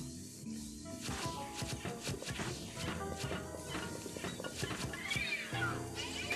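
Cat meows sound from inside a cupboard in the Luigi's Mansion 3 video game, short tonal calls rising over busy game music and footstep-like effects, with light talk in the background.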